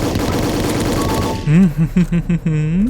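Dense rapid gunfire from the video game A Dusty Trip, loud and continuous for over a second, then giving way to a voice talking over a softer game background.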